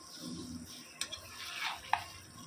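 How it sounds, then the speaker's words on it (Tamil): Chicken thokku is stirred in a pan after the lid comes off, with soft scraping under a faint sizzle and two sharp utensil knocks against the pan. "நம்ம மூடியை திறந்து நல்லா கலக்கி விட்டுடலாம்"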